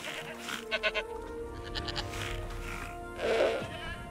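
Goats bleat several times in the video game Jurassic World Evolution's Malta DLC, a quick cluster of short calls early on and a louder, drawn-out bleat near the end over a continuous game ambience.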